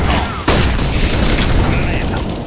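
A flashbang grenade detonates in Counter-Strike: Global Offensive with a sudden loud boom about half a second in, then a dense, sustained roar of game noise that continues to the end.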